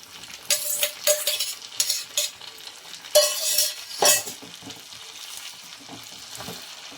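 Cashews and raisins fried in ghee are poured into a pan of jaggery pongal, giving several loud bursts of crackling sizzle with spoon scrapes and clinks, then settling into a quieter, steady hiss.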